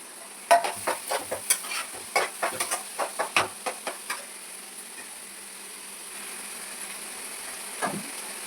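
Onions and tomatoes frying in a pan for sweet corn samosa filling, a spatula scraping and tapping in quick clustered strokes over a soft steady sizzle, then the stirring stops and only the faint sizzle remains.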